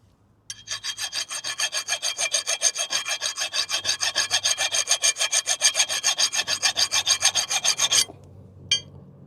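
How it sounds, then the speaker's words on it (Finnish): A hand file rasps back and forth across a metal ridge near a bearing, in a steady rhythm of about forty quick, even strokes, close and loud, then stops with one last scrape. "Täytyy yrittää viilata tää kynnys pois, että saadaan toi laakeri sieltä puolelle."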